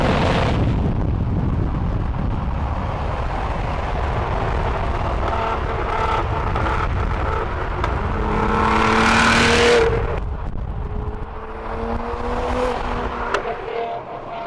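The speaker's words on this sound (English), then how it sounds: "for the outro of this video, we're going to show you some rolling shots of the GT-R." A 2013 Nissan GT-R runs past at night with a loud, rough engine roar and rising and falling tones as it passes close by, then fades into a lower rumble.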